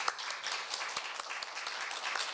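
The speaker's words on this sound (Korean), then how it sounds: "박수 한번 해주세요." A seated audience at a Korean university lecture event applauds, a short even burst of many hands clapping in a hall.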